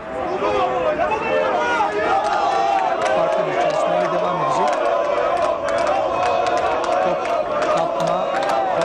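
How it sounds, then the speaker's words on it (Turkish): Football fans at a Fenerbahçe training session chanting for a player: a dense crowd of voices singing and shouting rhythmically in the open air, steady throughout, with the chant rising and falling. "Bu arada Yobo'ya tezahüratlar sürüyor."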